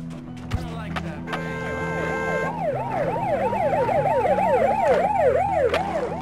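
A police car siren wails in the video game Bully, loud and close, starting with steady tones and then changing to a rising and falling wail. Game engine and traffic noise run underneath.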